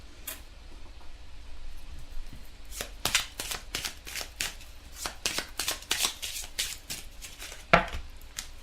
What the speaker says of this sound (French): on va tirer une carte amoureuse, une petite carte pour voir le message du jour